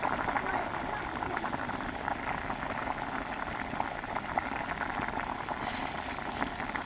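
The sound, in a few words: fish curry with potatoes boiling in pot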